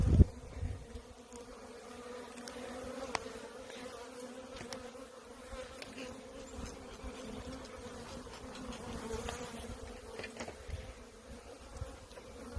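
Dense, steady buzzing of many honey bees swarming close around a hive during spring build-up, a continuous low drone with occasional nearer passes.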